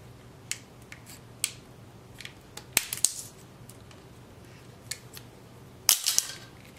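A knife or cutter snips and cracks through the plastic finger of an animatronic robotic hand, giving sparse, sharp clicks and two louder snapping bursts close by, with no talk.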